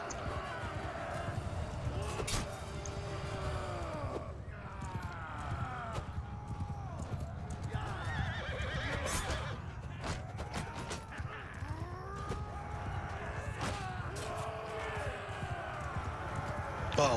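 Horses in Crusader Kings 3 battle gameplay pound along in a steady, busy rumble of hooves with scattered whinnies and animal calls over a constant mid-level din.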